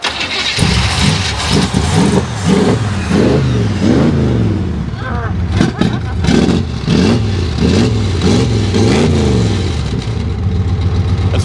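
A 1971 Chevrolet Nova SS with a 4-speed revs repeatedly, loud rhythmic surges rising and falling close by, with voices talking over the engine.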